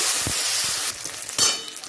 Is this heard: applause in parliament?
no